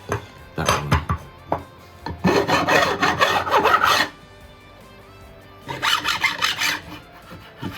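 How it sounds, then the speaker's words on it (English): A hand file rasps against the metal mounting tangs of a guitar pickup for a Telecaster humbucker swap, in short strokes and then two longer bursts of steady scraping, close and alone. "you can hear with the file when it's got a little bit to go"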